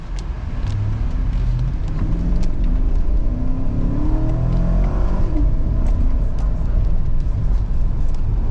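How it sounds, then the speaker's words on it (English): A 2016 Chevy Tahoe police 4x4's V8 engine runs smoothly and steadily from inside the vehicle, a constant low hum with slight rises in pitch and no talking. "The engine's running smooth."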